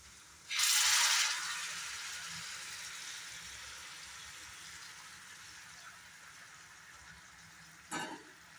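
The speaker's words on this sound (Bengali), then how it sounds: "এখন এখানে একটু দিয়ে দেব গরম জল।" Hot water splashes into a hot frying pan while cooking eggs, giving a sudden loud hiss that settles into a steady, softer sizzle, with a faint clatter near the end.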